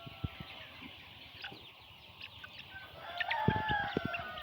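Chickens on a poultry farm cluck and call quietly at a distance, rising into a louder burst of clucking and bird activity near the end, with no one speaking.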